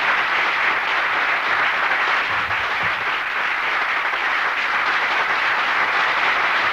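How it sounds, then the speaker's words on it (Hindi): A crowd at a Hindi poetry recital applauds loudly and steadily, a dense wash of clapping that holds at the same level throughout with no pauses. "आप सब पुनः एक बार जोरदार तालियों से श्री पंवार का स्वागत करें।"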